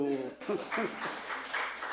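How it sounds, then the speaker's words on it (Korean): A church congregation at a Wednesday service breaks into clapping for a child named Uju, steady applause swelling after a short stretch of someone speaking. "우주를 위해서도 박수."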